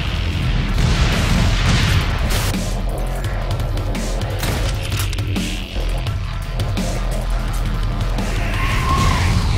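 Airstrike blasts in the video game Backlight: Retribution, heavy booming explosions layered into a loud, continuous rumble of battle with no clear pauses.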